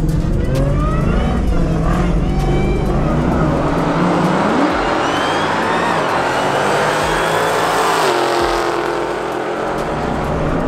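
A boosted Ford Mustang at a roll racing event roars loudly and continuously with rising and falling revs, tyre squeal mixed into the harsh engine noise of a burnout, close by throughout.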